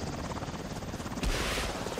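Helicopter in the video game Saints Row (2022), a steady loud rotor drone that swells slightly near the end, with no speech over it.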